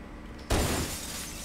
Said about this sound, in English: Break all the glass!